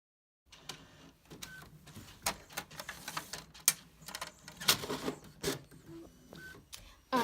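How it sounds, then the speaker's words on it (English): A Brother MFC J870DW inkjet printer at work on planner inserts, giving off irregular mechanical clicks, whirs and sharp paper-feed clacks up close, loud and uneven across several seconds. "Sorry I'm talking over my printer, but if you were wondering, I have a Brother MFC J870DW."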